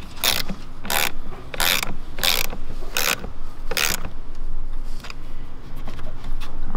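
A ratchet snugs a 10 mm bolt on a truck winch mount, giving about six quick, sharp clicking bursts close by in an even rhythm, then falling quiet, with no voices.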